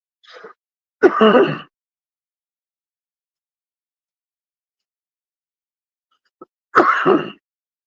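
A few short, harsh coughing bursts, close and loud, separated by a long stretch of silence.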